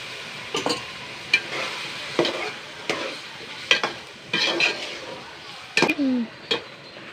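Raw plantain pieces are dropped into half-cooked beef in a pot and stirred, giving scattered scrapes, clunks and short sizzles at close range, with quiet stretches between bursts.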